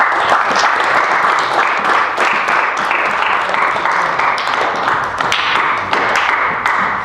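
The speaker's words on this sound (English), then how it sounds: "let's go ahead and give him a round of applause" An audience at a junior Optimist Club convention gives a loud, sustained round of applause, with some sharp individual claps and thumps standing out from the dense clapping.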